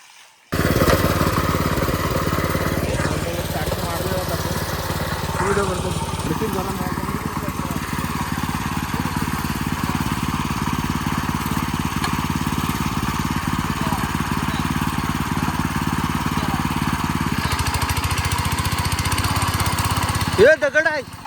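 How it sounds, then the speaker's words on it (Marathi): A farm tractor engine catches abruptly and then runs at a steady, loud, rough drone for about twenty seconds before cutting out near the end, heard close up in a rice-planting field. "तर चला आपण जरा आता ट्रॅक्टर चालूया"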